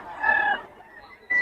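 Young roosters, called stags, at a gamefowl sale in Bocaue give a short clucking call up close, followed by a second brief cluck a moment later.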